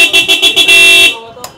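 Aftermarket horn fitted to a Honda SP125 motorcycle sounds a rapid series of short, loud toots close by, then holds one longer blast before cutting off.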